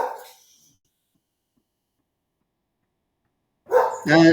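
A dog barks in short bursts nearby indoors, a quick yelp at the start and then a cluster of sharp, loud barks after a stretch of silence.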